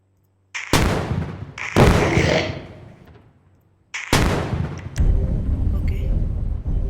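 A bomb-launching weapon fires in a zombie war video game, giving loud blasts in quick succession, each one crackling and booming before it fades, with a short quiet gap between the pairs.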